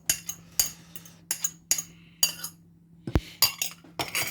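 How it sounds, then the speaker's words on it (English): Potato and egg mashed in a bowl with a metal utensil produce a run of repeated clinks and soft squelching strikes, close and irregular, with no speech. "And give that a good mash."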